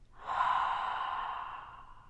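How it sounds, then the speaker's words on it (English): A single slow Ujjayi yoga exhale through a constricted throat gives a soft, ocean-like hiss, close and quiet, swelling and then fading over about two seconds. "take a deep breath in, and on the exhale you just"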